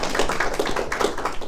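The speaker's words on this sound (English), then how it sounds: "A round of applause." An audience at a business-school speaker event gives a round of applause, a brief spell of moderate clapping with individual claps standing out.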